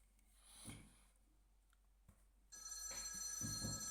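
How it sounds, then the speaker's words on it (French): An office desk telephone rings in a video game, starting abruptly after a quiet stretch of faint background noise and continuing as a steady, bright electronic ring. "Nouvelle mission, répondez au téléphone du bureau"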